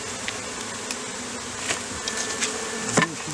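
Honey bees buzzing close by in a steady drone, with a few louder passes as individual bees fly near.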